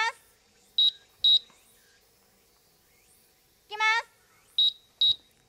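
Electronic timing beeps for baseball batting swing practice, sounded by a team manager acting as timekeeper: short high-pitched beeps in pairs about half a second apart, with a brief human voice between them, in a quiet setting.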